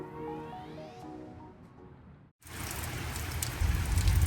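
Steady rain patters on surfaces, faint at first under a tonal sound, then dense and louder after a brief silent gap.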